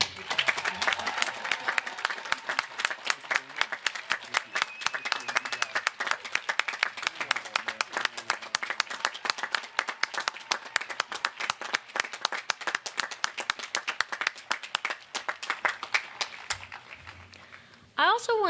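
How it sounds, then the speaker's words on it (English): An audience at a law school commencement gives a sustained round of dense clapping that carries on loudly before thinning out and stopping near the end. "I'd like to ask you to give one more very grand round of applause"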